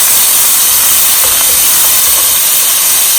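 Onions and dried chili pepper cook in a pan for a bottle gourd masala curry, giving a loud, continuous hissing sizzle that stays even throughout the short stretch.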